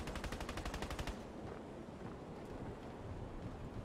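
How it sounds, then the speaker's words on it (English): Rapid automatic gunfire from a Fortnite match crackles in a dense burst for the first second, then fades into a low rumbling game ambience with scattered faint shots. "Someone was shooting you from behind."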